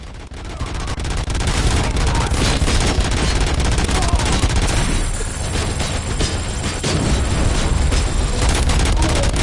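Relentless heavy gunfire from the Robocop video game, a dense continuous barrage of rapid shots and booms that stays loud and unbroken throughout, with a faint voice buried underneath.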